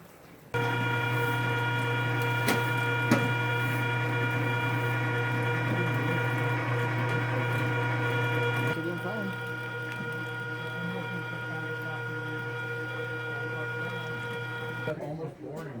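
An electric meat grinder running hamburger meat through a second grind hums loudly and steadily with a droning motor tone, its pitch and load shifting slightly partway through, close by.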